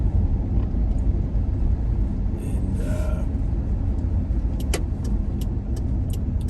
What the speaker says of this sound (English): I'm just going to slow up here and let this car go around